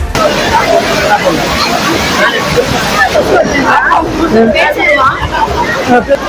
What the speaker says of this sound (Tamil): பொள்ளாச்சி அருகே உள்ள கோவை குற்றால அருவியில் இதமாக கொட்டும் தண்ணீரில் சுற்றுலா பயணிகள் உற்சாகமாக நீராடினர்.